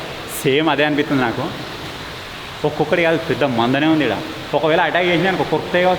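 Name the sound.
flowing water inside an abandoned tunnel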